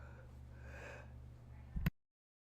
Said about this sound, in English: Oh, that was a good sneeze.